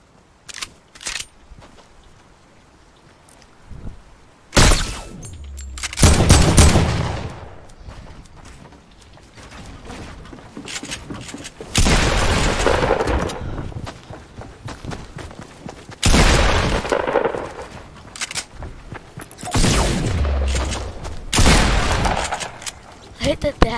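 Bursts of gunfire in a Fortnite-style build battle video game, several loud volleys of rapid shots spaced a few seconds apart with quieter gaps between, mixed with game sounds.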